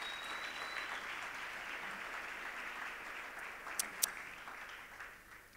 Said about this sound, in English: Let's keep clapping hands for her as she comes to the front